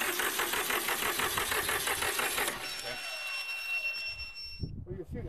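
A Massey Ferguson 1010 tractor engine cranks with rapid, even rhythmic chugging from the starter, loud and close, then stops and gives way to quieter handling noises and a faint whine.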